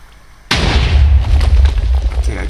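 A TNT cannon in Minecraft fires with a sudden loud boom, followed by a rumbling explosion with crackling debris that stays heavy and close for about two seconds.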